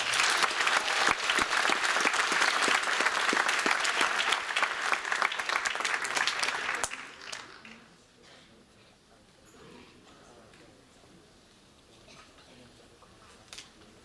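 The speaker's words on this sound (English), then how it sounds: "Give them another round of applause" Audience applause for performers at a high school writers week event: loud, dense clapping for about seven seconds, then tapering off to quiet room noise with a few stray claps.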